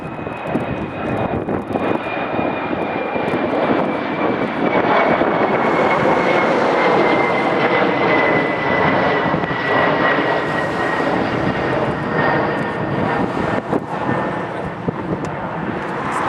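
A Cessna Caravan propeller plane takes off at PHL airport, its engine a loud, steady drone with a high whining tone that slowly drops in pitch as it climbs away.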